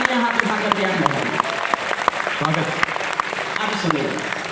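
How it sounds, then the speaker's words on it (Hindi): Audience applause and clapping at a live poetry recital, a steady crowd clatter lasting several seconds with a voice speaking over it. "लहराइए तालियां, जोरदार तालियां हाथ उठाकर दिया लहराइए"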